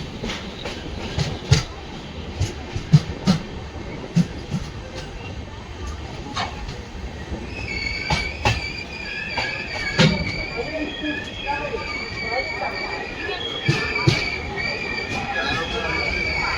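Panchaganga Express passenger train on the Kundapura to Bengaluru line, rolling in toward Udupi: continuous rumble under rhythmic wheel clacks over rail joints, with thin metallic squeals from the wheels in the later half, heard from aboard.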